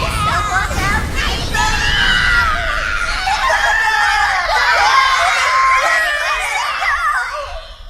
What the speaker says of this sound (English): The screams of burning victims rang out from the downed vessels.